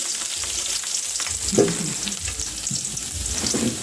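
Garlic sizzles and crackles steadily in a hot pan while making pochero, with a few louder pops and stirring scrapes, close up and without talk.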